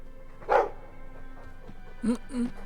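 A dog in the Dragon Age 2 video game gives a short bark, then two more yips a moment later, heard over a steady game background hum.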